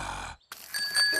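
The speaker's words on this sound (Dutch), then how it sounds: "En dit is de bel." A bicycle bell rings in a Peppa Pig cartoon, with a few bright, clear dings near the end after a noisy start and a brief gap.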